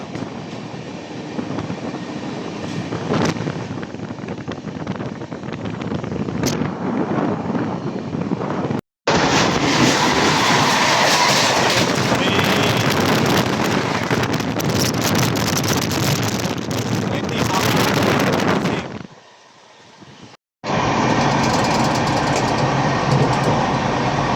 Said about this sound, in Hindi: भाई साहब ये है महानगरी एक्सप्रेस, इसके साथ हमारी क्रॉसिंग हो रही है।